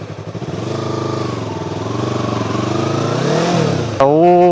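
A Yamaha R3 sport motorcycle idles and revs loudly up close, the engine note rising and wavering before a sharp throttle blip as it pulls away.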